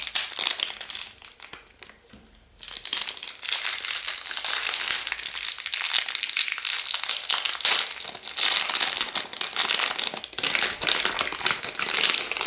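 Wrapper of a Bewitched bubble bar being torn open, with loud, close crinkling and crackling plastic that runs almost continuously with short pauses.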